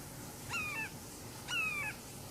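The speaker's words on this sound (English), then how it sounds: "that, by the way, does sound like a red-shouldered hawk" Red-shouldered hawk call played back from a bird app, two short, clear descending screams about a second apart over a faint background hiss.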